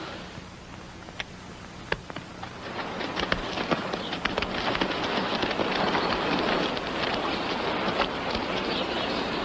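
Steady rain patters on a surface, a dense hiss of drops with a few sharper louder drips standing out near the start.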